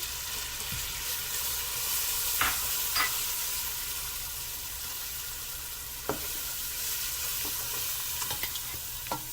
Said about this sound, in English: I keep stirring. Now I'm gonna put the paprika.